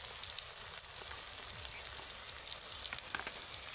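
Ground spices, including chilli powder, Kashmiri chilli powder and cumin powder, fry with okra in a pan, making a constant, close sizzle with light crackling like rain on a surface.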